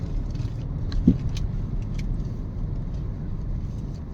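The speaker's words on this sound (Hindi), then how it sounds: "बहुत ट्रैफिक है आज, बारिश हो रही है" Road traffic on a rainy day: a continuous low rumble of passing cars and motor vehicles, steady and moderately near, with a brief thump partway through and no talking.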